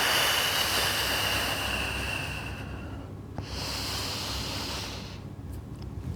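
Long, forceful breaths are pushed out during a Pilates core exercise, a loud, close, airy rush that fades off around the middle and then comes back for a second long exhale, with no speech over it.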